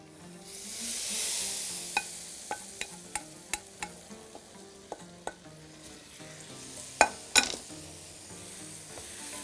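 Fried vermicelli gets stirred in a pot, a soft steady sizzle under a series of sharp scraping clicks of the utensil against the pot, spaced irregularly and ending with a pair of louder knocks.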